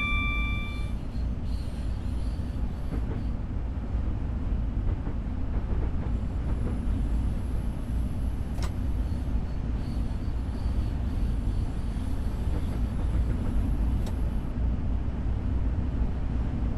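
A train running in the video game Train Simulator 2022 gives a steady low rumble and rattle that holds level throughout, with a few faint clicks over it.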